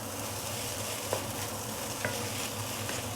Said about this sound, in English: And last few stir.